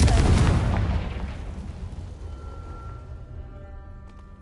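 A Confringo fire spell blasts in Hogwarts Legacy, a heavy close boom that rolls off into a fading rumble, leaving a quiet ringing tail.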